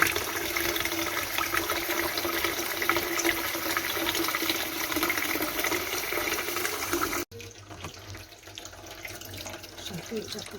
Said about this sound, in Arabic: اخر مره بقى بحط فيه ميه كده عشان يتغسل من جوه كمان